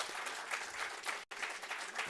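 An audience applauds a panel of economists at a talk on global value chains, a dense wash of clapping that briefly cuts out near the middle before resuming at steady strength.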